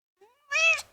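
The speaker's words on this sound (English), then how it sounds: "Can you say meow?" A pet cat gives a short rising meow, faint at first and then louder and clearer, a single call close to the listener with no talk around it.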